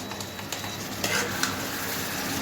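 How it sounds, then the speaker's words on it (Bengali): Potatoes being stirred and coated with spice paste in a pan for rui fish curry, a steady soft sizzle with faint scraping strokes throughout, close and alone with no talk. "এবারে এই আলুটাকে এইভাবে আপনি ভালো করে মাখিয়ে নেবেন, একটু নাড়াচাড়া করে নেবেন"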